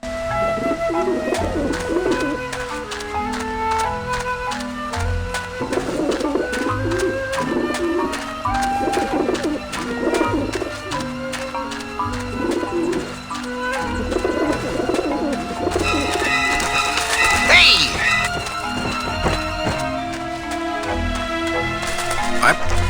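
Pigeons coo on a rooftop in the game Grim Fandango, low repeated calls running steadily under a dense layer of musical tones, with no voices.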